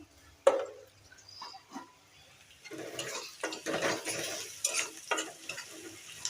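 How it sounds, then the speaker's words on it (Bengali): Tilapia fish cooks in a pan with garlic, onion, green chilli and potatoes, starting quiet with a few clinks, then a steady sizzle rises with bursts of stirring scrapes against the pot, close by. "রসুন পেঁয়াজ কাঁচামরিচ এখানে এই যে মাটির নিচের আলু আর এখানে মাছ তেলাপিয়া মাছ রান্না করতেছি"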